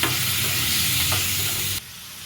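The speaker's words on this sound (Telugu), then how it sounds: "ఇవి వేసుకొని బాగా ఫ్రై చేసి" Thinly sliced tomatoes fry in a pan for a veg kuska, giving a loud, steady sizzle with faint stirring that cuts off sharply near the end, no voices.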